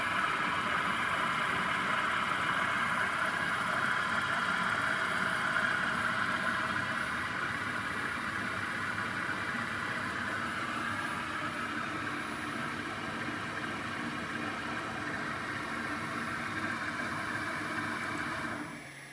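A servo motor serving as a machine spindle, controlled through Mach4, runs steadily at 1000 RPM, a continuous even hum that holds level for the whole stretch with no talk over it.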